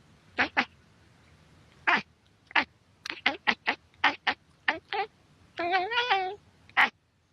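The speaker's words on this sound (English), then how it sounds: "That's a good cat." A cat meowing repeatedly in short, close calls spaced irregularly, followed by a longer drawn-out wavering meow and one final brief cry, with no talking.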